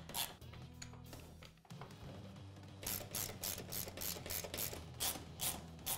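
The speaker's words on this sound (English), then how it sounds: "we'll remove the 3 T40 Torx bolts that come stock on the machine" A ratchet wrench clicks as stock T40 Torx bolts come out of a Polaris RZR XP 4 1000 skid plate, first in a slow run of clicks, then a pause and a faster, louder burst of close ratcheting.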